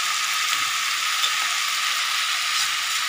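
Bori lentil dumplings frying in a pan of oil alongside amudi fish, a bright continuous hissing sizzle close up, steady and unbroken for the whole short stretch, no voices.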